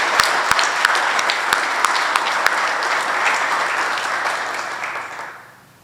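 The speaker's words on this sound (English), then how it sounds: "Please join me in a round of applause for Union County's own" A round of applause breaks out at a veterans affairs office grand opening in a senior center, steady clapping with a few distinct sharp claps up front, fading out at the end.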